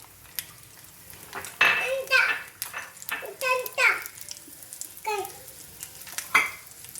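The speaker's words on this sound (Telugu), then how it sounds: "ఇవి కొంచెం వేగాలి, వేగనిద్దాం. వెల్లుల్లిపాయలు, దంచిన వెల్లుల్లిపాయలు వేద్దాం ఇందులో." Crushed garlic fries in a pan for Andhra-style tomato pachadi, a soft sizzle under a voice and a child's chatter, with clinks of utensils against the pan.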